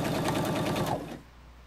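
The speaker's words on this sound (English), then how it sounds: "continue stitching along the edge in a 1/4 inch seam" A sewing machine stitches quilt binding along the edge in a quarter-inch seam, a rapid steady mechanical chatter that runs for about a second and then stops, leaving a quiet hum.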